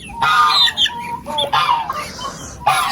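Young free-range village chickens cluck and squawk nearby in a busy series of short, bright calls, with quiet farmyard background between them.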